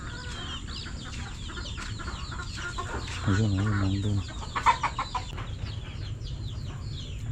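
Chickens on a farm clucking and calling, with a rooster's drawn-out crowing call in the middle. The birds are fairly close and mixed with a few short spoken words.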